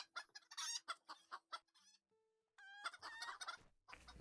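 Chickens cluck and squawk in rapid, overlapping calls in the video game Lord of the Rings Online, close and fairly loud, with a crowing-like call near the end.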